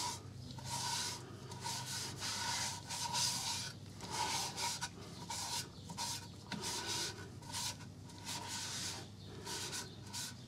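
A J cloth rubs leaf-green Brusho dye stain into wood in repeated scrubbing strokes, a soft rasping swish with a steady back-and-forth rhythm up close.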